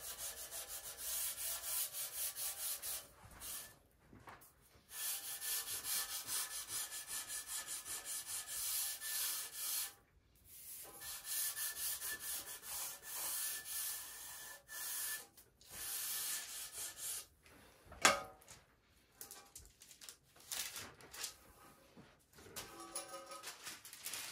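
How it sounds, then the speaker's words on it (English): A T-bar sanding block rubs lightly over a foam model biplane wing in steady, continuous scrubbing strokes, broken by brief pauses. The sound is close and fairly even, and no one speaks. "Now we'll take our T-bar and we'll lightly sand this."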